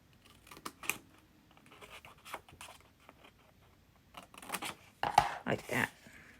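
Scissors snip a small triangle out of folded, scored paper, giving a series of soft, close crisp cuts and paper rustles, with a louder cluster of snips near the end.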